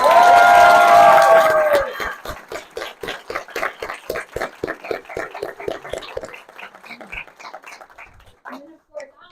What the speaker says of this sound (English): Can we give a round of applause to Ms. Barish and all our advisors?